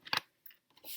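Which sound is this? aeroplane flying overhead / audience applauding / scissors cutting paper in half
scissors cutting paper in half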